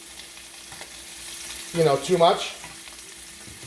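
Shrimp sizzle steadily in a non-stick skillet, with a quick clatter and louder rustle as they are flipped midway, then the hiss settles back; a voice briefly speaks.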